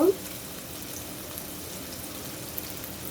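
Green chili and onion frying with salt in a pan, a soft steady sizzle running faintly and evenly throughout, with a brief louder stir or clatter at the very start.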